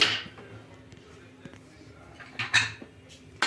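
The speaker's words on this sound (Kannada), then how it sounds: "ಈ ಕುಕ್ಕರ್ ಮುಚ್ಚಳ ಮುಚ್ತಾ ಇದ್ದೀನಿ" A pressure cooker lid closes while leafy greens are cooked for a prawn soppu saaru, with a few metallic clanks and scrapes. A louder clatter comes near the end over a quiet kitchen background.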